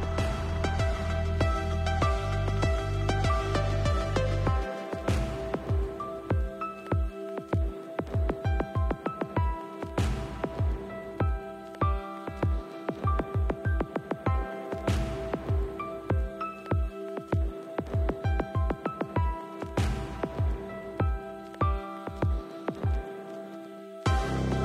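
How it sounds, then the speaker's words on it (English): Rain in the farming game Farming Simulator 22, heard as steady patters and drips on surfaces over a repeating rhythmic game soundscape, moderately loud and continuous with no talk. "Last pass, and as you saw, what do we have? Rain."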